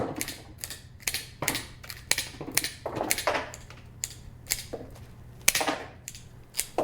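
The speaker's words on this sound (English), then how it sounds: "do a little trimming, just to trim off some of that weight" Flower stems for a wrapped bouquet are snipped in a quick run of sharp, close cuts, each crisp click or snap landing alone in an uneven rhythm over a quiet background.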